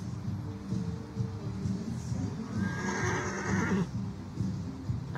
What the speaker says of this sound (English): It's definite whinnies going on there.